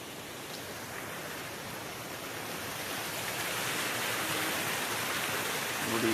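Rainwater rushing through a swollen stream beside the Hebbal bridge after heavy rain, a dense, steady broadband roar that builds slightly toward the end, with no voices.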